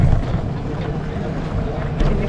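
A speedboat runs across Umiam lake near Shillong, its engine droning steadily and close, with rushing wind buffeting the microphone throughout the short ride.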